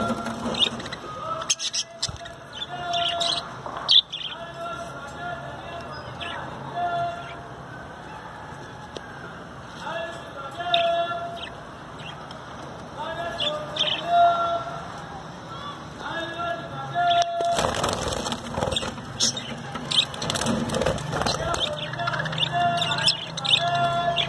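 Home-bred pet birds in violet, green and white colour varieties chirping and calling continuously, close by, beneath someone talking throughout.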